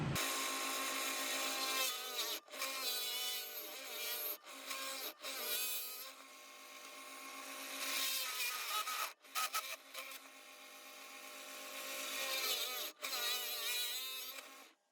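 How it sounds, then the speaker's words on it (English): Steady drilling into wood with a spade bit on a drill press, boring a 1-inch hole, a continuous loud whir and grind with a few brief pauses as the bit bites through the board. "So we're gonna drill a 1-inch hole with our spade bit."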